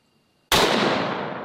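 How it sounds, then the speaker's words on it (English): A bolt gun fires once: a single sharp, loud crack after near silence, followed by a broad, hissing decay that fades slowly over the following second. "It's just a bolt gun"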